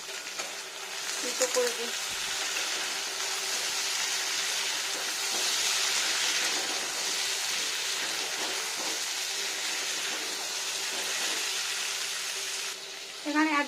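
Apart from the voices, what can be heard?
green pumpkin frying in a pan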